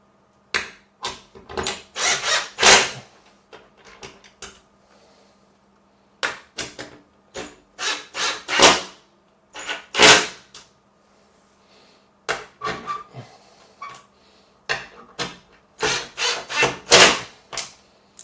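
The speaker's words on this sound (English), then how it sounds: "A lot of screws I had to tighten up there." A hand tool works screws into an L-shaped YOOBURE gaming desk during assembly, in repeated bursts of close scraping and ratcheting separated by short pauses.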